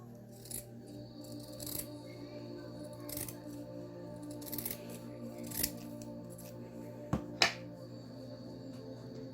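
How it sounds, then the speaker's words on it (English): Scissors cutting a loop of ribbon for a fluffy ribbon-trimmed tutu: several quiet, close snips and rustles spaced through the clip, then a sharper pair of clicks near the end, with no talk. "We're going to cut this loop right here for the other end."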